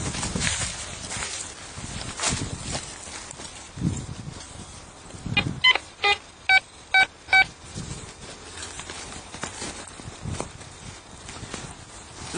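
Metal detector searching a dug hole, giving a run of about five sharp, evenly spaced tonal beeps midway through, surrounded by scraping, digging and handling noise close by.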